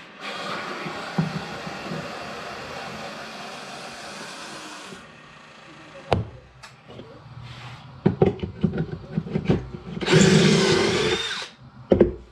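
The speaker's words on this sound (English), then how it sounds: "I'm going to drill all my screws first, my holes" A power drill bores screw holes in wood during a renovation of a 1967 Field & Stream canned ham trailer, with several short whirring bursts close by, separated by pauses and handling knocks.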